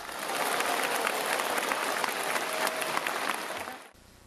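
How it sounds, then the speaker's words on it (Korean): A large audience at a Women's Federation for World Peace 25th anniversary ceremony in Jeollabuk-do, Korea claps in sustained, dense applause for about four seconds before it cuts off abruptly. "우리 서로 격려와 축하의 박수를 보내주시기 바랍니다"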